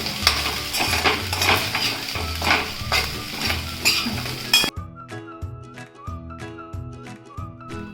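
A spoon scrapes and clinks through phodnicha bhat, leftover rice fried with coriander, in a pan over a soft sizzle; rhythmic stirring strokes repeat at close range, with crisp metallic taps in the second half.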